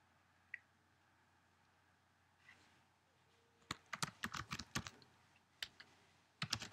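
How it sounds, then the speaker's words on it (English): Typing on a computer keyboard while making a short list, including Tab key presses: a few soft isolated taps, then several close bursts of crisp clicking keystrokes over a quiet background, with no voices. "Tim, now click tab."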